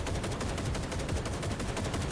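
Rapid, dense gunfire in the video game Cyberpunk 2077 Phantom Liberty, a fast rattling stream of automatic shots at moderate loudness with no clear talk.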